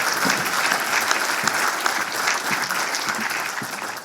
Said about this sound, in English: let's get all of our speakers a round of applause.